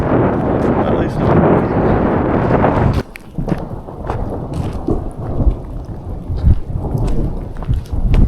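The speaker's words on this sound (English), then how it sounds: "looks like there's another thunderstorm en route" Rolling thunder from a passing thunderstorm on a mountain ridge, a loud sustained rumble that eases after a few seconds into gusty wind and rain-like noise, with a voice speaking over it.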